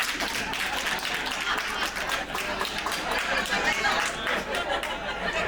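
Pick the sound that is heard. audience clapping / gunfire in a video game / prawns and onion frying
audience clapping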